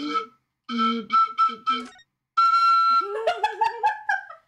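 A sustained, steady whistle tone with harmonics sounds midway through, following choppy bursts of tonal, voice-like sounds and followed by further warbling tones.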